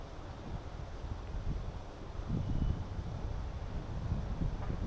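Steady wind buffeting a microphone on a fishing boat in Virginia in February, a continuous low rumbling rush with gentle swells in strength, with no voices over it.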